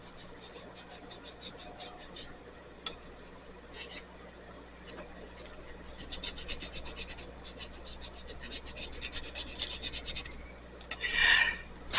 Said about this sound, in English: So while I'm sanding away